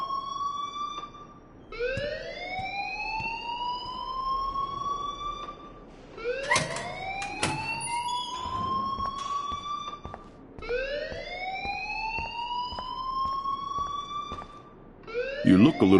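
A wailing school alarm in the Life Is Strange video game rises in repeated sweeping cycles, loud and insistent, while voices talk underneath.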